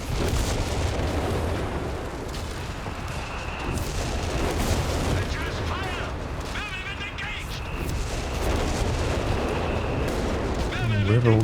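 Mortar shells and artillery bursting in a Company of Heroes 3 battle, with dense, continuous booming and gunfire rumbling throughout at steady loudness, and a voice talking over the din.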